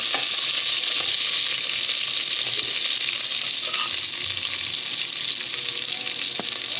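Onions sizzle steadily in hot oil for a Mangalore village-style prawn curry, a loud continuous frying hiss with occasional faint stirring scrapes and no voices.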